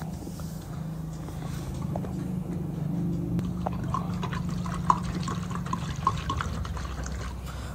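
Water poured into a basin to soak bamboo shoots (labong) for cooking, a steady liquid rush and trickle running throughout at close range with a few small splashes near the end.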